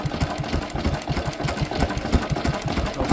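A Lister H type engine running with its oil pump and fuel pump working, a loud, close, steady rapid chugging and mechanical clatter with an even rhythm throughout.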